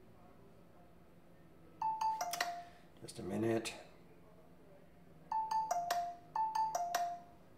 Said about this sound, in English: I just want to get rid of my sound alerts on my phone.